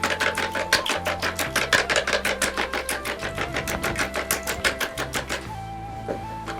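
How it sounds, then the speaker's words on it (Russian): Eggs are whisked in a bowl with fast, steady rhythmic strokes, a quick run of even ticking beats that carries on alone throughout, close and moderately loud, while Tatar sweet treats are prepared. "Мы взбиваем яйцо."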